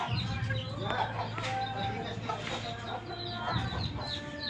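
Chickens cluck and chatter nearby, faint and busy, mixed with voices talking in the background.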